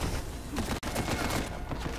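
Sustained rapid gunfire from a newly picked-up weapon in Uncharted 4: A Thief's End, a dense continuous burst with a single brief gap midway, loud and close.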